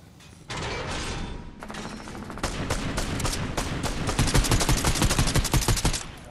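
Repeated shots from a Dragon's Breath Sniper in Fortnite, loud sharp blasts in quick succession with mechanical clicks between them, growing denser and heavier toward the end, no talk.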